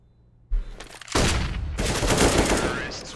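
Gunfire from an esports shooter match in a competitive group-stage game: a sharp shot after a short quiet lead-in, then a loud sustained burst of rapid fire that fills the rest, with a caster's voice faintly underneath.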